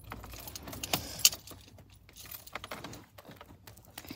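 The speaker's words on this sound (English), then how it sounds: "I'm about to pass Shorty the keys" Car keys jangle in a short burst near the middle as they are passed from one person to another, with faint car and road noise underneath and no talking.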